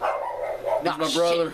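A dog barks and yips in a short whining burst, close by, with a voice speaking just before it.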